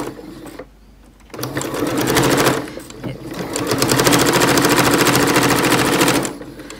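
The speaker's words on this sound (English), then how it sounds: "There's lots of ways to sew cork." A sewing machine stitches through cork in fast, rattling bursts, close and loud, with short pauses between runs of rapid needle clatter.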